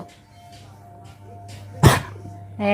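A single sharp, close cough bursts out after a few seconds of near-silence, and a voice starts up right at the end.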